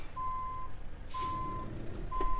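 A truck reversing in Euro Truck Simulator 2 gives three evenly spaced, steady beeps, each about half a second long, clear above a low engine rumble.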